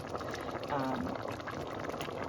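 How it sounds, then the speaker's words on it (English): Fruit for a traditional boiled dark fruitcake bubbles in a pot on the stove, giving a steady, soft simmering and gurgling of liquid that runs through the whole short stretch at moderate loudness. "with the fruit boiling, this is what gives this cake the moist, delicious flavor"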